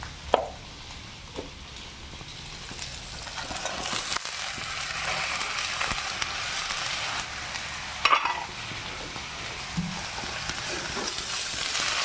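Soya chunks and green peas stirred into a spiced mixture in a hot frying pan, a continuous close sizzle with scraping spatula strokes and a few sharper knocks against the pan, no talking.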